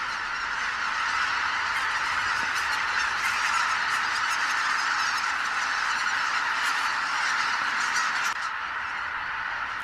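A huge flock of Baikal teal, around a hundred thousand small ducks, lifting off together at dusk in a continuous rushing roar like a waterfall of wingbeats, loud and steady throughout with no voices.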